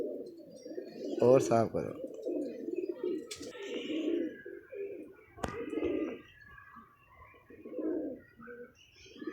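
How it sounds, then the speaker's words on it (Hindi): Pigeons coo in soft, repeated throaty calls, with a blue dumba-type pigeon among them, close by and interleaved with someone speaking briefly. "ये नील दुम्बा टाइप सा कबूतर है"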